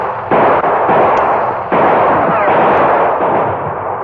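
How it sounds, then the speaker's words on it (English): Gunfire in an old-time radio Western shootout, outlaws caught between a rookie Texas Ranger's guns and those of the Lone Ranger and Tonto: a dense, sustained rattle of loud shots with a sharp fresh burst partway through, no talk. "The outlaws were between Bert's gunfire and that of the Lone Ranger and Tonto."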